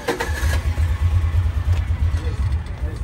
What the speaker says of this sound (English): we're gonna get into the Kawasaki and head back to the ranch